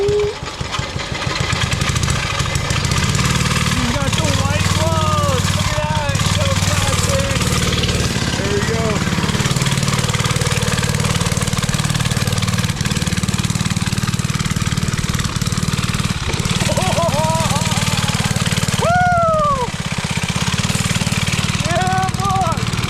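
Small dirt bike engine running loud and steady close by after a start, a constant low drone with revving surges, as voices shout and talk over it.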